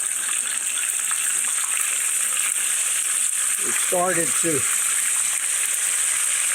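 Steady broadband sizzle of chicken coated in pork rind crumbs deep frying in hot oil fills the clip, with a person briefly speaking near the end over the crackling.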